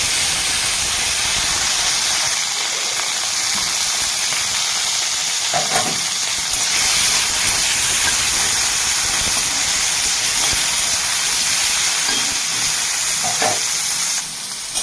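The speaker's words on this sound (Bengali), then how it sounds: "ওই তেলে দিয়ে দেবো এবার আমি লাল করে ভেজে নেবো" Vegetables fry in oil in a pan for a shukto dish, browning with a loud, continuous sizzle and hiss that holds steady throughout, with occasional faint stirring clinks and no talking.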